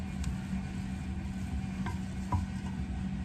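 A pasta salad with sausage and Italian dressing is stirred around in a bowl: a quiet, steady low rustle of moist ingredients, with a few faint clicks from the spoon. No one speaks.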